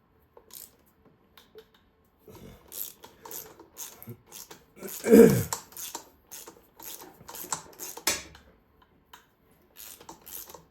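A ratchet removes the starter bolts on a Twin Cam engine, giving close, crisp bursts of rapid clicking separated by short pauses, with one heavier clunk midway.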